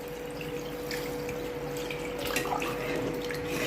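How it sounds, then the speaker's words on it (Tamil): Water being added to fish curry in a pan on a stove over high flame, a continuous running pour with light splashing, steady and close, with a constant low hum beneath. "இப்போது தண்ணி ஆட் பண்ணிக்கலாம்."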